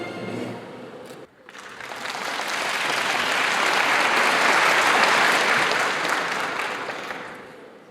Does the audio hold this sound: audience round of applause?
yes